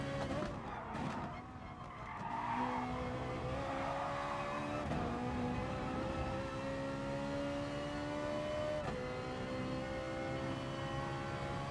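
Ferrari Group 4 race car engine in GT Sport, a loud steady howl that climbs through the gears with brief dips at each shift, with tyre skidding early on.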